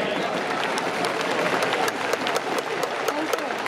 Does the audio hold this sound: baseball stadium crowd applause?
yes